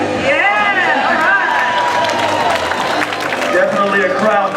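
A small cheer section at a Carolina Rollergirls roller derby bout cheers and claps up close, with lively voices and whoops over a busy arena hubbub, continuous and fairly loud throughout.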